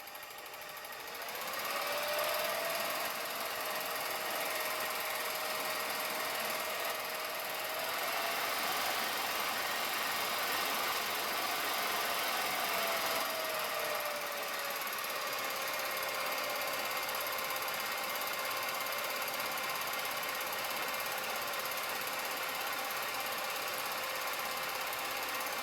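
A Revere film projector runs with a steady mechanical whirring and clatter, a constant motor hum with a faint tone that shifts slightly in pitch over time. No one talks.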